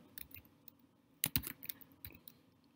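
Someone types an abbreviation on a computer keyboard, close and quiet, with a few scattered keystrokes and a brief quick burst of clicks in the middle.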